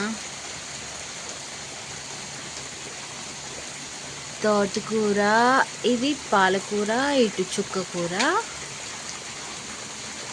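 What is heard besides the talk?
heavy rain falling on a vegetable garden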